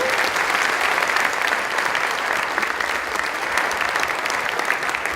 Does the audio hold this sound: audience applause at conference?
yes